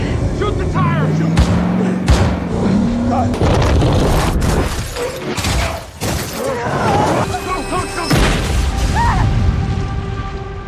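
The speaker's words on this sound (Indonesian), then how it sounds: "sehingga mobil itu pun terbalik dan meledak" A car in a film flips over after its tire is shot and then explodes, heard as several loud booms and thuds amid dense action sound, with voices shouting over the chaos.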